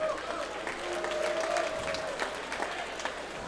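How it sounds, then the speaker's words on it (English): A crowd at a combat sports event applauds and cheers steadily as a fighter is introduced in the blue corner, with a brief voice under the clapping. "fighting out of the blue corner, let's hear it for Kaelb Young"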